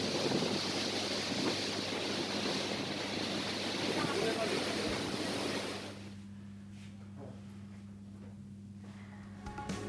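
Heavy rain pours down in Baripada as Cyclone Yaas makes landfall, a dense, loud wash of rain and wind that drops off sharply partway through, leaving a quieter hum.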